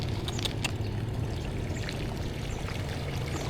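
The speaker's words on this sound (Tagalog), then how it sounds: "Talagang na yung tubig, pumapasok na yung tubig." Steady rush of floodwater flowing in across a flooded road on a route in Bulakan, Bulacan, a continuous broadband wash with low rumble, fairly close, with no talk.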